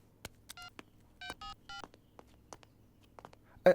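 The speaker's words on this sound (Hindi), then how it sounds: "रिंग हो रही है" A phone is dialed in a dubbed South Indian movie scene: short electronic keypad tones beep one by one in small clusters, with faint clicks between them against a quiet background.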